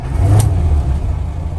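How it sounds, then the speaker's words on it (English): 1968 Morris Traveller with its A-series engine, warm, running with a close, loud low rumble and a brief rise in revs near the start before settling into a steady idle. "quick video of startup and idling on this Morris Traveller"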